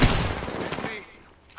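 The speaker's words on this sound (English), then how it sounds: "I am taking fire" Apex Legends video game gunfire: a loud, dense burst of shots at the start fades into a ringing decay, with a faint sharp sound returning at the very end.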